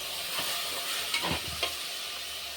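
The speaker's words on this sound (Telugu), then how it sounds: "అల్లం వెల్లుల్లి పేస్ట్ అనేది పచ్చివాసన పోయే వరకు లైట్గా ఫ్రై చేసుకొని ఇంకా మటన్ కూడా వేసేసుకోవాలి" Ginger garlic paste frying with marinated mutton in a pressure-cooker pot for mutton curry, a steady close sizzle with a few louder stirring scrapes and bursts, no talk.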